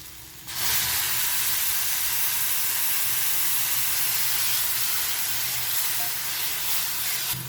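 Tamarind water poured into a pan of frying shallots for Kerala-style ulli theeyal sets off a sudden loud, steady sizzle and hiss. The sizzle holds strong and unbroken for several seconds and is heard alone.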